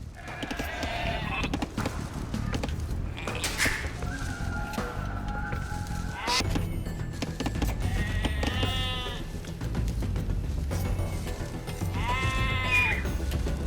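Sheep in Age of Empires II: Definitive Edition give several separate wavering bleats, spaced apart over a busy background of game ambience.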